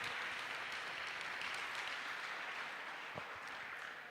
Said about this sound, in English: So give another round of applause